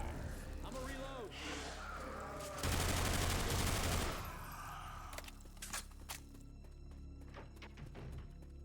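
Gunfire in the video game Left 4 Dead 2 with a Resident Evil 3 mod: a dense, loud burst of rapid shots amid game noise, with people talking over the action before and after.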